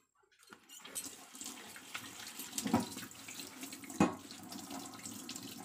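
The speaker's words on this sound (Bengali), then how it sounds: "বেসিনটাও ভালো করে পরিষ্কার করে নিতে হয়" Tap water running into a wash basin during cleaning, a steady close splashing stream with occasional louder clunks of handling in the sink.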